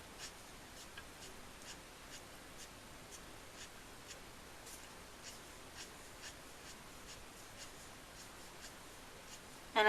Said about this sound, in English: just putting your pen down and lifting up and away from the paper.